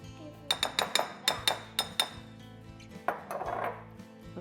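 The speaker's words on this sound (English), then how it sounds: "Let's see if I can stir this in." A spoon clinks repeatedly against a bowl while stirring coconut milk into a cookie mixture, giving about eight bright, evenly spaced taps, a short pause, then a softer scraping stir.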